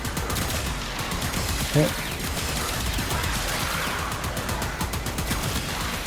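Rapid gunfire from the Laetum weapon in the video game Warframe, a dense continuous stream of shots mixed with game effects, under a brief spoken word.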